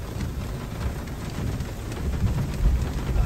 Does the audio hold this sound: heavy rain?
yes